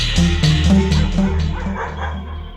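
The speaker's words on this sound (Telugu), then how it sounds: "ఇటు కుక్కలు ఒకదానికోటి పోటీ పడి అడుగుతున్నాయి" Several dogs barking in quick succession, loud and close, with repeated overlapping barks and yips layered over a low steady background hum, no talk.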